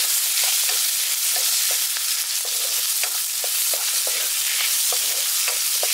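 Chopped onion frying in a hot pan over lightly fried ginger, garlic and chilli, giving a steady dense sizzle with scattered soft stirring taps, close and alone.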